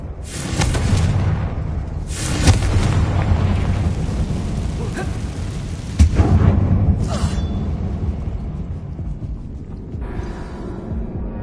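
In the video game Hogwarts Legacy, a Confringo blasting spell is cast inside an old mine, setting off several heavy booming blasts at irregular intervals. Each blast is followed by rumbling debris and crackling tails.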